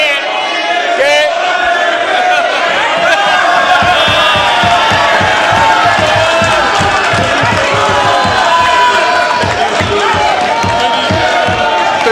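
Members of Pakistan's National Assembly shout and clamour during a session, a loud, dense crowd din of overlapping voices and jeers that continues throughout, with scattered desk thumping.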